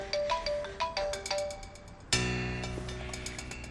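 A mobile phone rings with an incoming call, a melodic electronic ringtone repeating its short chiming phrase loudly and close, with no talk over it.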